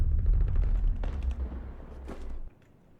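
Gunfire in a rocket launcher shooter video game, a burst of heavy booming shots with low rumbling thuds and sharp cracks, fairly loud, fading out after a couple of seconds.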